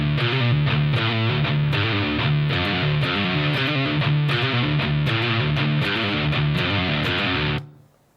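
A distorted electric guitar plays a riff with hammer-ons and pull-offs at a slow tempo, its dense notes running continuously before cutting off sharply at the end.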